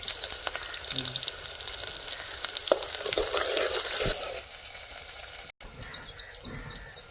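Steady crackling sizzle of onion frying in hot oil for a crab recipe, with faint clatters and a brief cut partway through.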